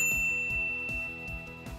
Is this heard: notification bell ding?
yes